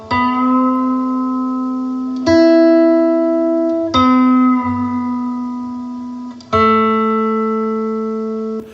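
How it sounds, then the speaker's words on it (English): A clean electric guitar plays a slow lick of sustained notes with four distinct picks, one note bent upward in pitch, each ringing out clearly. "This lick is played on the second and third string with this cool bend trick to finish it off."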